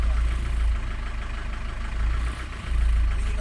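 An Isuzu Crosswind engine idles with a low, steady rumble and a faintly pulsing throb, continuous and moderately loud, with a slight dip near the end.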